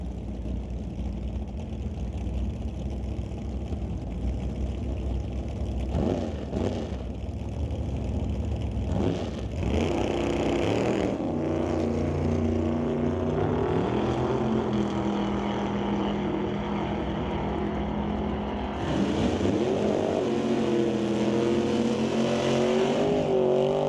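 Two drag racing cars, a Chevy II and a Duster, launch at an NHRA Northwest National Open Series event, their engines roaring loud and close, then surging and rising in pitch as they accelerate away, with a continuous heavy engine din throughout.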